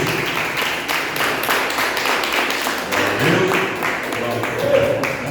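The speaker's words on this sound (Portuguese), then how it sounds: "recebe o nosso pastor com as palmas para o Senhor Jesus" A church congregation applauds in welcome of the pastor, with steady crowd clapping throughout, moderately loud and slightly reverberant, while a voice speaks over it.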